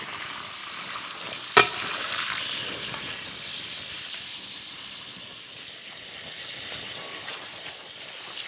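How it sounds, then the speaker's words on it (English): Baking soda being stirred into dried beans soaking in water, a soft steady swishing with one sharp clink of the spoon near the start, close and fairly quiet. "stir in that soda"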